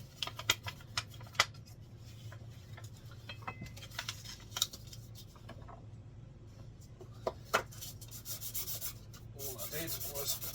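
A Mikuni 34 carburettor part from a Yamaha Virago 535 rubbed back and forth on 1000 grit sandpaper, giving close, irregular scratchy strokes with scattered sharp clicks over a low background hum, no talk.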